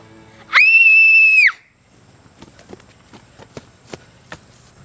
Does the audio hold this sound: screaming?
yes